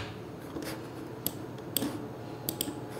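A few sparse keystrokes on a computer keyboard, faint and close, land as isolated clicks over a soft background hiss.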